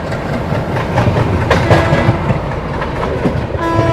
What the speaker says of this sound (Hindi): सामने से आ रही है न्यू दिल्ली से चलकर बलिया की ओर जाने वाली new Delhi Ballia superfast express